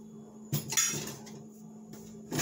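A spoon scrapes and clinks against a bowl while stirring vegan lemon herbed artichoke and vegetable pasta, a few close, bright clatters with quiet scraping between them.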